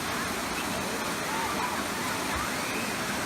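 A waterfall pouring about 11,000 gallons a minute roars as a dense, steady rush of water, loud and continuous, with someone speaking faintly over it.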